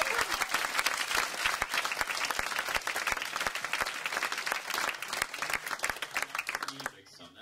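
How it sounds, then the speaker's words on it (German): Warm audience applause in a German film museum hall greeting comedian Helge Schneider, a sustained dense wash of many hands clapping that tapers off near the end, with a voice briefly audible beneath it. "zunächst mal dafür schon einen herzlichen Applaus für Helge Schneider"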